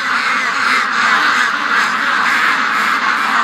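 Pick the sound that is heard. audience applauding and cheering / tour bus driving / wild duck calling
wild duck calling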